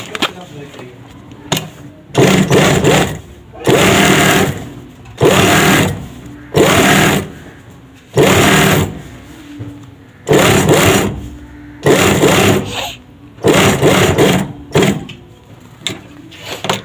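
Sewing machine stitching a two-piece shirt collar, running in repeated bursts of a second or two separated by short pauses, loud and close, with a person talking between the runs.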